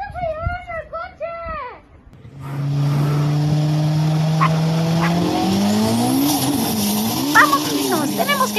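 In a cartoon, a car revs and speeds off with a loud, sustained roar and rising tire squeals over several seconds, preceded by excited high-pitched cartoon voices.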